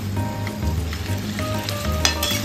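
Chicken bubbles and sizzles in a fried masala for honey chicken, a loud close crackle with scattered pops and spits, steady throughout and no one speaking.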